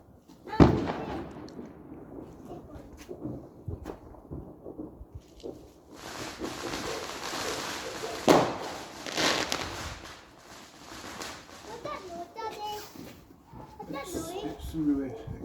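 Fireworks and firecrackers going off on Bonfire Night, with a sharp bang near the start and another around the middle, over crackling bursts and people talking nearby.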